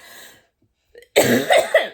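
A person with a chesty cough gives a short breath, then a burst of several rough, close coughs in quick succession.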